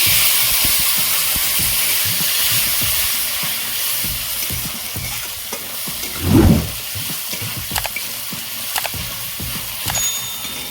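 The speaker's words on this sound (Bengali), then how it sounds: "ফোড়নের দুটো তেজপাতা শুকনো লঙ্কা গোটা জিরে টমেটো কুচি দিয়ে দেবো" Bay leaves, dried red chilies, whole cumin and chopped tomato crackle in hot oil, a steady close sizzle with a brief louder hiss flaring up midway.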